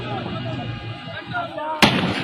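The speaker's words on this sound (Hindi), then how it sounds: "पुलिस की जानिब से बस के टायर पर गोलियां मारी जा रही है।" A single sharp gunshot at a bus tyre cracks out near the end over a background of murmuring voices and crowd noise, during a police and protester confrontation in Pakistan.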